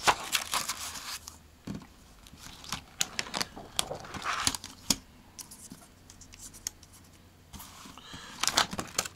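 Paper pages of an A4 Japanese Matrix notebook turning and rustling, a series of crisp sharp flips and papery handling noises close to the microphone, with brief quieter pauses between them.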